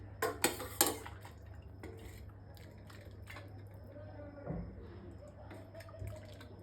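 Mutton paya soup, thickened and cooked with a little ghee, ladled into a bowl: a few sharp clinks of a metal spoon against pots and dishes near the start, then soft wet scraping and dripping under a steady background hum.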